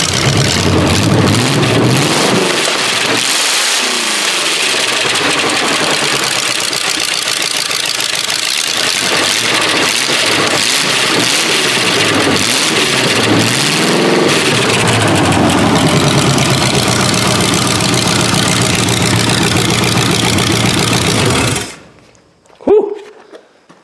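An old car's engine runs loud and rough, idling with a knocking, uneven rumble close by for about twenty seconds before cutting off abruptly.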